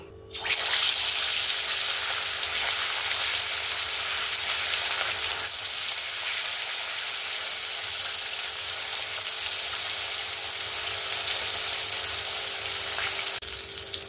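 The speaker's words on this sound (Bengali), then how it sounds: "এবার আমি মাছগুলোকে ভেজে নেব" Marinated pomfret frying in hot oil in a wok, a loud, steady sizzle that starts abruptly and holds continuously with no talking.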